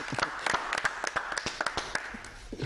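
Audience applause at a comedy stage show, a few seconds of dense, fairly quiet clapping from a crowd, steady with no talking over it.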